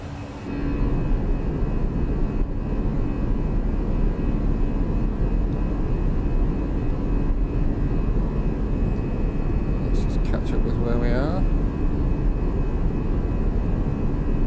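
Steady, loud drone of Airbus A320 engines climbing in a flight simulator, a constant roar throughout with a brief chirp of higher tones near the end.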